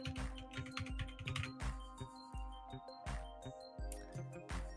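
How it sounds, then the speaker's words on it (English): Rapid typing on a computer keyboard, dense irregular key clatter with brief pauses between bursts, close but quiet. "here we go, typing it in right now"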